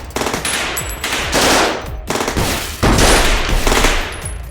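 Loud, sustained automatic gunfire rattles in dense bursts during a pirate firefight on a spaceship flight deck, with sharp overlapping shots and no voices.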